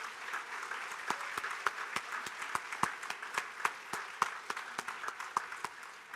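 An audience at a county Hall of Fame induction event applauds with a fairly quiet, even wash of clapping. Distinct sharp nearby claps repeat throughout.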